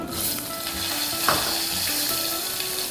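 Mustard seeds spluttering in hot oil in a home kitchen crackle and pop in a dense, continuous sizzle, close and fairly loud, with occasional stirring scrapes and no talk.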